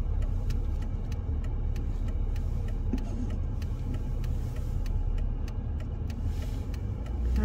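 A car drives along at a resort town in Lithuania, with a steady, loud low engine and road rumble from inside the cabin and faint periodic ticking throughout.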